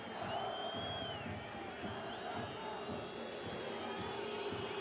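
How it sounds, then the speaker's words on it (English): A stadium crowd at a football match between Comunicaciones FC and New York City FC gives a steady, distant applause and murmur with occasional whoops. "and this crowd applauds"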